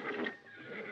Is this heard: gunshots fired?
no